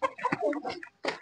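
A domestic hen clucking in short agitated bursts while being chased, close and loud, with brief pauses between calls.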